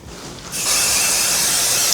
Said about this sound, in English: I'm spraying the first layer and then I'm going to spray the second one.